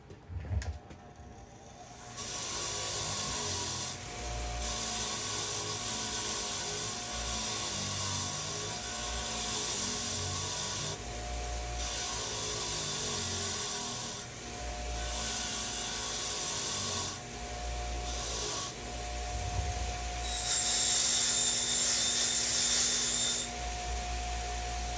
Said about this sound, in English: I'm going to take the wire wheel to this before I take it apart real quick.